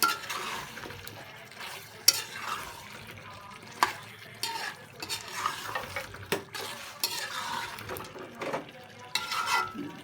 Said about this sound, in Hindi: थोड़ा सा इसको अब हम फिर दोबारा मिक्स करके भून लेते हैं।